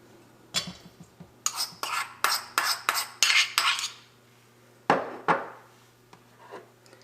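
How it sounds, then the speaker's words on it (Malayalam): A spoon stirs oats dosa batter in a bowl, giving a quick run of about eight sharp clinking scrapes, a pause, then a few more strokes, close and clear with no talking. "ഇതെല്ലാം കൂടിയിട്ട് നമുക്ക് നന്നായിട്ടൊന്ന് മിക്സ് ചെയ്യാം"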